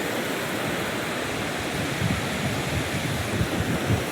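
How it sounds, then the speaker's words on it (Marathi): Sea waves wash steadily onto a rocky shore, a broad, rushing roar with soft low surges breaking through near the end, no voices present. "लाट आली."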